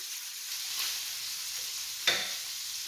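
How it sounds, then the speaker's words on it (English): Alfredo sauce ingredients are stirred in a pan, giving a soft steady sizzle with light scraping and one sharp utensil tap partway through. "As we continue to stir, the ingredients, we're going to incorporate the shrimp"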